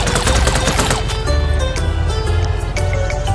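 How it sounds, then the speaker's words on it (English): Rapid video-game gunfire from a character shooting at barrels in a stunt motorcycle river level, dense bursts of shots with crackling impacts, loud and continuous over a low rumble. "Now, he is shooting barrel."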